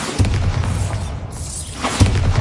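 A loud, deep Bombarda spell explosion in Hogwarts Legacy booms and rumbles, then a second blast hits near the end.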